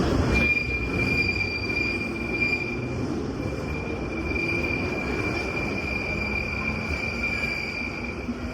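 A London train's wheels squeal in a steady high whine over a continuous low rumble of rolling carriages, loud and close throughout.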